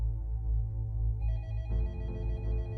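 An office telephone rings, a steady electronic ringtone with a shifting pattern over a low hum, clear and sustained.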